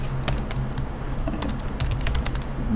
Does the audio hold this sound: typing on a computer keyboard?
yes